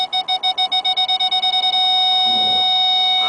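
The backup parking sensor on a 2008 Nissan Quest SL beeps in rapid pulses that speed up until they merge into one steady tone as the van closes on an obstacle.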